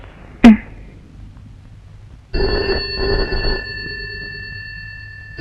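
A loud click, a pause, then a telephone bell starts ringing with a steady, sustained electronic tone.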